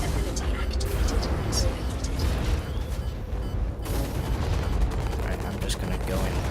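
Rapid, dense gunfire and mechanical clatter from mech combat in the video game Hawken roll on continuously and loudly, with a player talking over it.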